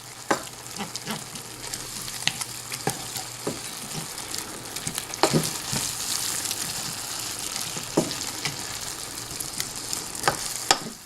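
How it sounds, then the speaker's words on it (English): Garlic sizzles steadily in a hot frying pan, with scattered clinks and scrapes as it is stirred in, a close, continuous crackle throughout. "And let's put our garlic in at this point too. Get that nice and stirred in."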